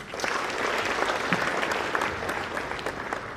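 Steady applause from an audience at the Sierra Leone Mining Week diamond producers' event, an even wash of many hands clapping throughout, moderately loud with no voices.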